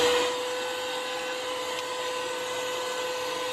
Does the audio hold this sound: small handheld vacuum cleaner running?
yes